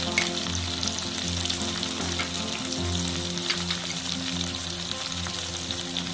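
Ginger paste, chicken and large tomatoes fry together in a pan, giving a steady, dense sizzle with faint stirring scrapes throughout and no voices.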